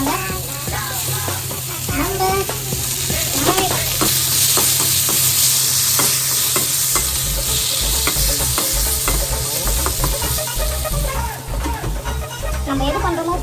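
Tomatoes sizzling and frying in a kadai on a roadside stove, a steady loud hiss with stirring scrapes and clinks throughout, and a low engine-like rumble underneath in the second half.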